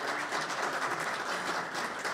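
An audience at a fire service meeting applauds the sponsors, a steady even clapping that carries through the whole moment with no talk over it.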